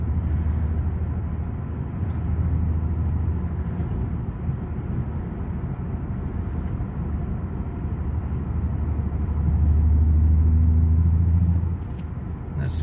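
A car engine misfires while accelerating at low RPM, a heavy uneven rumble that swells louder toward the end, heard from inside the moving vehicle.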